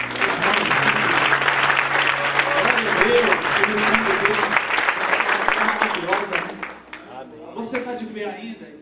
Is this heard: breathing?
no